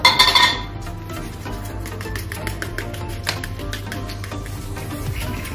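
Egg paratha batter being mixed in a bowl, with quick, light tapping and clinking of a spoon against the sides and a brief, brighter clink at the start.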